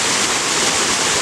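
A waterfall spills over granite-like Gold Country boulders in Dublin, California, giving a steady, dense roar of rushing water that holds constant and close throughout, with no voices.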